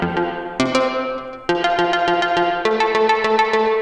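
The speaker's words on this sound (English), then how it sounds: "I actually decided to use an arpeggiator" A GarageBand arpeggiator on an iPad repeats synth notes in quick even pulses, shifting pitch in steps across several chord changes, loud and clean with no voice.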